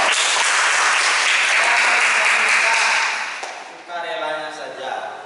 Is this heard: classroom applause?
yes